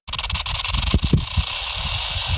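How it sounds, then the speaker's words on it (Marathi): A tractor engine on a farm turns over and runs, with a loud steady rumble and a few sharp cranking bursts near the start, heard close with no speech. "आणि मध्येच आपल्या ट्रिपलचं ट्रॅक्टर चालू झालं"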